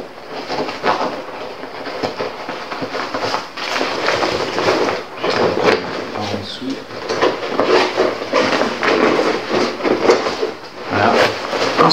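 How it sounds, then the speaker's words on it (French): A zipper running the full length of a Condor Outdoor Elite Titan assault pack, giving a continuous close-up rasping and rattling for several seconds, with someone talking alongside. "Donc ici on a une fermeture éclair sur la totalité."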